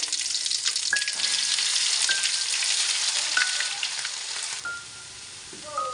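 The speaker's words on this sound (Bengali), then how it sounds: "এবার শুকনো মরিচগুলোকে একটু বেজে দিচ্ছি" Dried red chillies and garlic paste fry in hot oil with a loud, steady hiss and crackle. Sharp pops come through now and then, and the sizzle softens near the end.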